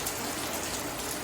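Rain falls steadily outside an open garage where work on a 1966 Ford Mustang coupe is under way, a dense, even hiss filling the short stretch with no talk.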